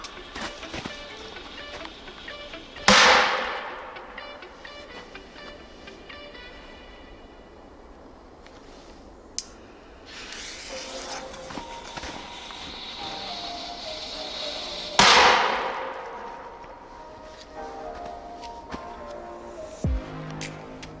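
Firecrackers explode against a block of ice sitting in a barrel, two sharp loud bangs several seconds apart, each followed by a short rattling decay and quieter crackle between them.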